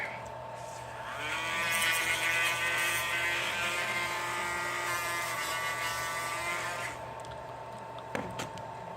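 A Dremel rotary tool whirs steadily at close range with a high tonal whine for about six seconds, then winds down and stops, used while balancing a small drone propeller.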